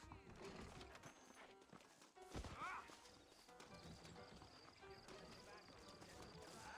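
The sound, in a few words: horses trotting and neighing in video game Red Dead Redemption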